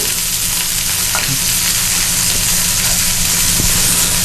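Scallops searing quickly in a hot pan, a loud steady sizzle close up with small pops and a faint tap or two, no talking.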